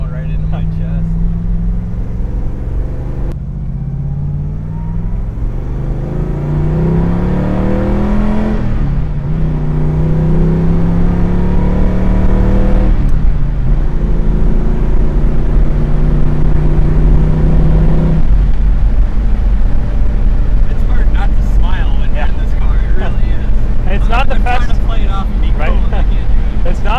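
A car engine revving repeatedly, a loud, deep roar that rises and falls in several sweeping pitch climbs, with people talking over it throughout.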